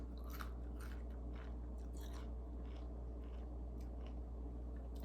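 A thin, crunchy beef chip from a snack mix being chewed close up, with a run of crisp crunches and bites over a steady low background hum.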